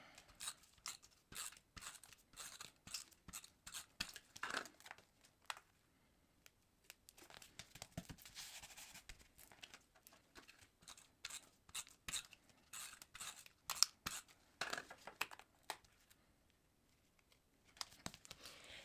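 Scissors snip steadily through card-making paper to cut out circles, close and crisp, a long run of rapid cuts and rustles broken by a short pause, with no talking.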